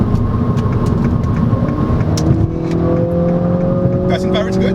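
A 2022 Mini Cooper S Hardtop 4 Door accelerates from fifth-gear highway cruising to pass, its engine note rising steadily in pitch under loud road and wind roar from inside the cabin.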